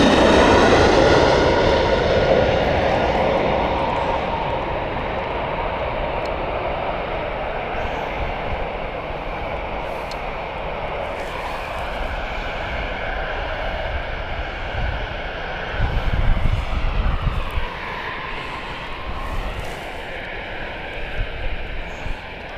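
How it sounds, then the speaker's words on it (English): British Airways Airbus A380 jet at Gatwick Airport, a loud broad engine roar that stays steady throughout with a shifting whine near the end, heard alone at close range. "Here comes British Airways. It's the Malon flight, Airbus A380."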